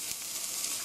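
Onions and a spoonful of flour sizzling together in a pan, a steady close frying hiss with faint stirring and no voices.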